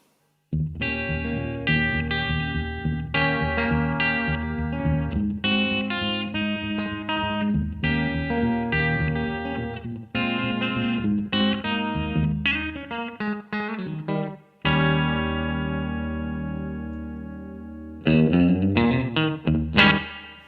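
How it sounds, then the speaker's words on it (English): Fender Telecaster electric guitar plays twangy chords and riffs through a Walrus ARP-87 delay's slapback setting, a short, quick echo doubling each note, bright and clear, with brief pauses between phrases. "using the slap feature on the ARP87 delay from Walrus"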